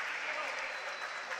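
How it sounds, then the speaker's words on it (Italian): Away supporters applaud during an Italian basketball game between Vis Nova Roma and Stella Azzurra Roma, a steady, moderately distant wash of clapping that holds evenly for the whole moment. "applaudito dai supporter in trasferta"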